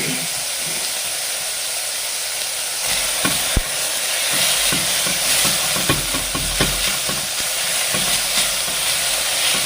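Onions sauté over low flame in a pan for poori masala, giving a continuous loud sizzle with scattered scrapes and knocks of stirring.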